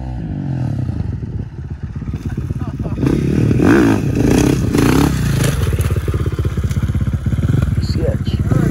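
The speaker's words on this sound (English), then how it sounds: "I'm trying to be like Axel, bro, and fucking get the wheelie" A quad bike engine revs hard through repeated throttle bursts during a wheelie attempt, loud and close, with rattling and scraping alongside and people talking over it.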